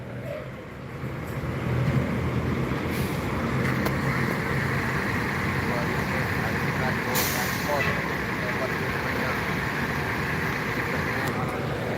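Buses and trucks idling and moving through the Palembang bus terminal, with a steady low engine rumble and a sharp hiss of air brakes about two-thirds of the way through, mixed with background voices.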